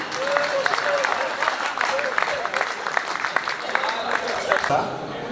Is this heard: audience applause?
yes